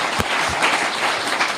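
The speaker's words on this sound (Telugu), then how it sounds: "కొట్టు చప్పట్లు అటు చూస్తావే నా ఇంకా చప్పట్లు" Church congregation applauding a preacher during a sermon, a dense burst of clapping that runs the whole brief moment at steady loudness.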